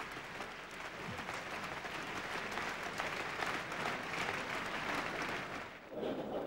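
Sustained applause from a large crowd at a party meeting, steady and dense throughout, briefly dipping near the end before resuming.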